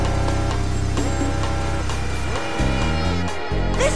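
A vehicle accelerates in Wild Arms 4, its engine tone rising in stepped pitch sweeps over a steady low rumble, with a loud, close, synthetic game-engine quality.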